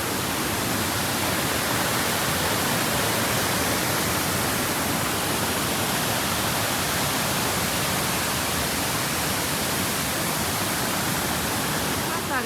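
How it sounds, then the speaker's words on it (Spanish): River in a jungle in Colombia's Llanos flowing nearby, a dense, steady broadband rush of water that stays loud and unbroken throughout, with a voice faintly mixed into the roar. "Solamente escuchen el sonido del río."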